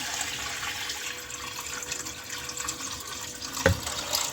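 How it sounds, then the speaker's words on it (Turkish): Water drains and trickles out of a basin used to wash wild mushrooms, a steady close splashing flow with a brief clunk near the end. "Şu leğendeki suyu boşaltıyorum."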